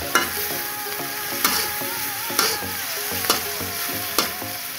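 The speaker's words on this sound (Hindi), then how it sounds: "ओके, अब इसको भी हल्का सौते करेंगे" Chopped capsicum lightly sautéed in a pan as spring roll filling, a steady close sizzle with regular stirring knocks roughly every second, no voices.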